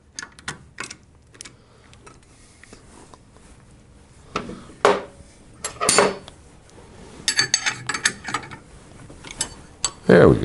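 Metal tool clicks, rattles and clinks while a bolt goes into a Panhead motorcycle with a broken drive belt, coming in irregular bursts that grow busier toward the end after a quiet start.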